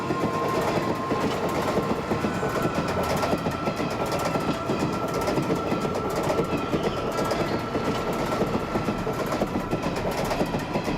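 A moving train rolls along, its rails clattering in a steady rhythm with a continuous rumble close by and a faint horn-like tone running through it.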